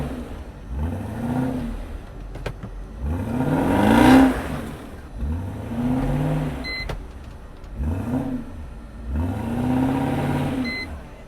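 A Mercedes G500 engine revs hard in repeated surges while the G-wagon sits stuck in mud, each rising whine climbing and falling back about five times, loud and close with no talk.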